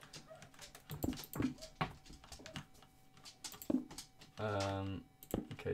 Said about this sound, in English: My dog came in my room.